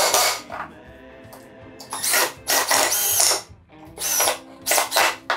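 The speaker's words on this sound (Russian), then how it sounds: "Сначала сколдовываю две фанеры вместе, используя три самореза." Power drill drives self-tapping screws through two stacked sheets of 10 mm plywood, several loud whirring bursts that each rise in pitch, with short quiet gaps between them and no talking.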